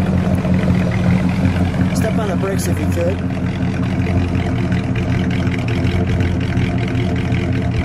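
A 1970 Oldsmobile Cutlass S Rallye 350 with a V8 idles nearby, a steady low rumble running throughout while someone talks over it.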